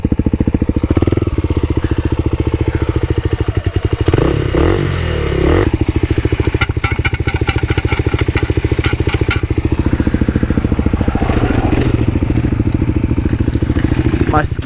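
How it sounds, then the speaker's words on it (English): A Kawasaki KLX 300 dirt bike with a loose skid plate climbs a hill on a trail. The engine drones steadily and close, while a tinny metallic rattle clatters over it in quick bursts. "Something was sounding like a rattling freaking soda can"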